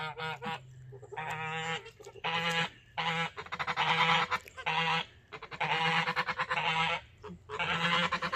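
A goose honks repeatedly in loud, harsh bursts, close by, with short pauses between the calls.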